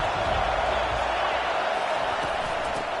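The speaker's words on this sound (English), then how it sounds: "This crowd trying to show them what it's going to be like all day in this house." A dense, steady roar of stadium crowd noise fills a Notre Dame versus Ole Miss game in College Football 25, loud and sustained throughout with no distinct cheers or talk standing out.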